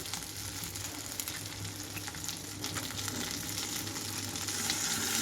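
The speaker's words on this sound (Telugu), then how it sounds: "ఇప్పుడు ఇదే ఆయిల్లోకి బెండకాయ ముక్కలు మొత్తం వేసేసుకుంటున్నాను." Okra pieces frying in hot oil for a bendakaya pachadi, a steady dense sizzle that holds close and even, growing slightly louder toward the end, with no talk.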